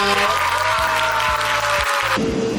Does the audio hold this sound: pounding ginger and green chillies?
no